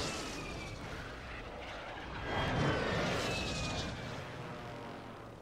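A helicopter in a video game flies with a continuous, loud rotor and engine roar that swells briefly in the middle before easing slightly.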